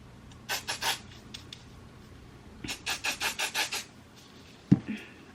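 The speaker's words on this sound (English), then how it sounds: "Put this in my roots and just like rub it in all over, so that way I can have some volume to my hair" Root boost product rubbed into hair roots by hand, giving quick bursts of scratchy rubbing in short rhythmic runs, close and fairly loud, with a soft thump near the end.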